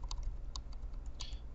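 Short clicky taps on a computer keyboard's bracket keys during a Photoshop CS6 editing session, several quick presses spaced irregularly, close and clear over a low steady hum with no talking.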